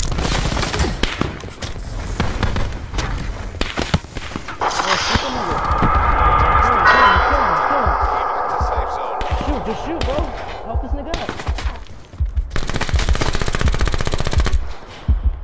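Rapid automatic gunfire from the Winter's Howl weapon in Call of Duty Blackout, sustained bursts of close, loud shots with a few pauses, while a player talks over the action.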